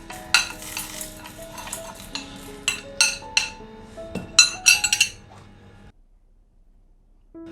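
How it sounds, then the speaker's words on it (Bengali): Ground sandwich spice masala is tipped into a mixer jar, with a run of sharp metallic clinks and spoon taps against the jar, close and irregular, ending in near silence. "এবার আমি একটা মিক্সিং জারের মধ্যে মশলাটাকে ঢেলে দিলাম সবটা।"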